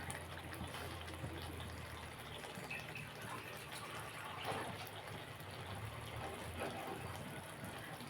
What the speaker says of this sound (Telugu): ఇప్పుడు ఇందులో కొంచెం వాటర్ వేసుకుందాం అన్నమాట